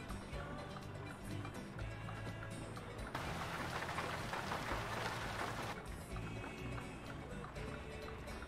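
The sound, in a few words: rain in video game American Truck Simulator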